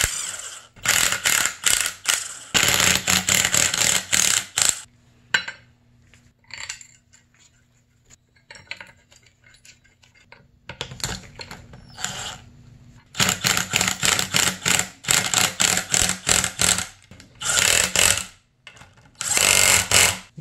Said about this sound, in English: These are supposed to be torqued down to 24 foot-pounds.